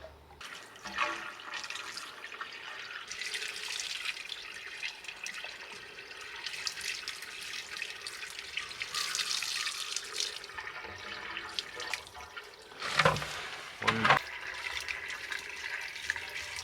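Water pours steadily into a tank, a continuous hissing rush with shifting gurgles and a couple of louder splashing surges near the end.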